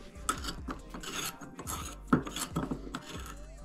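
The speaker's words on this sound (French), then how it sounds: "Pareil, je peux venir contrôler le roulement à l'intérieur. Il gratte un petit peu." Mountain bike bearing turned by hand while being checked, giving repeated short scratchy grinding rasps in an uneven rhythm with a few sharper clicks, close and moderately loud.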